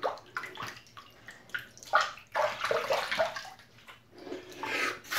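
Water runs in bursts while a shaving razor is rinsed, with splashing, uneven rushes that stop and start, close up and without talk.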